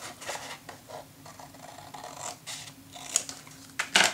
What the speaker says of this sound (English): And then cut it gently with your scissors.